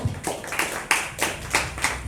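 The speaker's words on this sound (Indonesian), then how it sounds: "tepuk tangan" Audience clapping at an Indonesian environmental discussion event, a short burst of distinct, fairly close hand claps in an uneven rhythm, with no talk.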